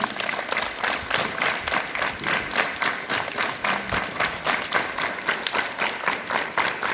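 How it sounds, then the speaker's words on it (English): Students at a school morning assembly clap their hands together in steady, repeated rhythmic claps, a dense crowd sound that continues evenly throughout. "Clap your hands."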